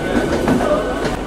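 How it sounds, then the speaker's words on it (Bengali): A train pulling out of Howrah station, with a dense rumbling rattle and rhythmic clatter of wheels on track, loud and close throughout the short stretch. "ট্রেন ছেড়ে দিল প্রায় 7 মিনিট লেট করে হাওড়া স্টেশন থেকে।"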